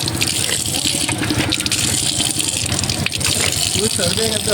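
Drinking water gushing from a tap at a temple in Hallikhed: a loud, continuous rushing flow, close by, with people talking over it.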